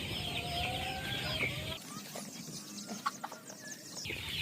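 Joper chickens in a raised fattening coop at morning feeding, clucking and calling in a busy flock, with bursts of squawks and rustling over a steady barn hum that briefly drops away midway.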